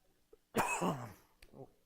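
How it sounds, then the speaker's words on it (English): A single harsh cough up close, followed by a brief softer throat sound. "That's probably a good cough to end on"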